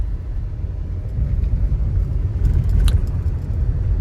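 A car drives slowly along a hilly road near Belpahari, its steady low engine and road rumble continuous and close throughout, with a faint higher rattle near the end.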